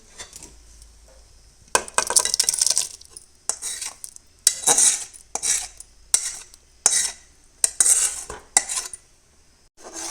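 A spoon stirs tomato and onion paste into cooked whole lentils (masoor) in a metal pot, giving a series of scraping, clinking strokes in separate bursts with short pauses between them, close by and fairly clear.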